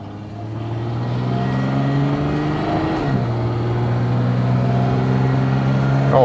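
A Fiat 130 with ZF power-assisted steering pulls away in drive, its engine drone climbing steadily and loud up close, dipping briefly as the automatic shifts before rising again.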